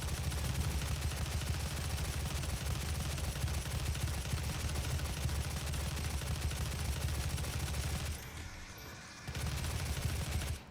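Sustained machine gun fire in Doom 2016, a dense, loud, close rattle that runs for about eight seconds, pauses briefly, then resumes.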